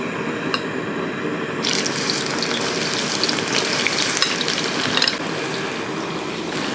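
Bitter gourd dropped bit by bit into hot oil: a quieter crackle swells into a loud, rushing, watery sizzle that holds steady, close to the pan.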